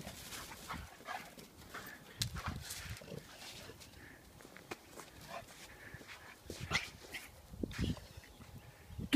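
A small Yorkie in a pink sweater chases a larger American Bulldog, with faint scuffling, panting and an occasional soft bark or whimper heard at a distance over quiet background noise.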